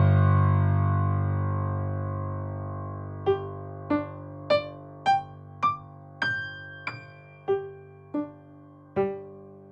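On a Nord Grand digital piano with sympathetic resonance, a held low chord rings out while single high notes are struck one after another, each leaving a soft shimmering resonance behind.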